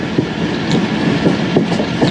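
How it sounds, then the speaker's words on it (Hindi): Allama Iqbal Express rolls slowly through Jia Bagga station on the Pattoki to Lahore run, a loud steady rumble of wagons with soft rhythmic wheel clacks heard from on board, no voices. "दोस्तों ट्रेन अभी हमारी जिया बग्गा रेलवे स्टेशन से"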